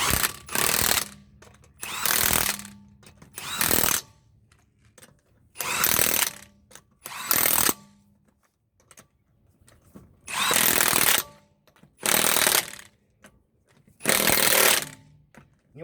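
An impact gun tightens lug nuts on the front wheel of a Chevy Uplander, giving loud close rattling bursts of about a second each, eight in all, separated by short quiet gaps.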